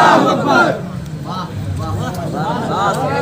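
A large crowd at a religious conference roars a chanted response to a Nara-e-Takbir call, loud and close, with the massed voices swelling in waves over about three seconds.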